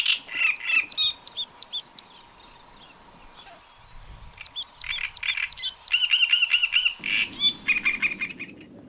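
A bird calls close by while feeding its young, in quick bursts of bright, whistled chirps, with short pauses between phrases and no talking.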